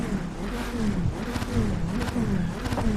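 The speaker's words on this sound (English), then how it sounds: "I can't believe that engine sound." A Viper sports car engine in the Assetto Corsa racing sim revs and drones with a wavering pitch that rises and falls, close and steady over three seconds with no voice on top.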